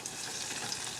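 Green and yellow peppers frying in a pan while being stirred, a steady close hiss and sizzle with no talking.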